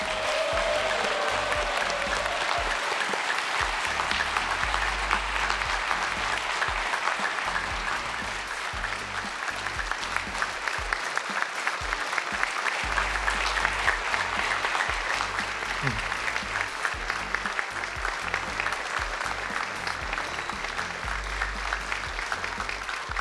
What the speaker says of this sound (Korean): 다시 한번 대통령님께 큰 박수 보내주시기 바랍니다